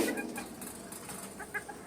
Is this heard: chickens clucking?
yes